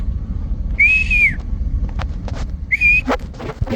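Two clear whistled notes, a long steady tone then a shorter one, over low rumbling background noise with a few clicks.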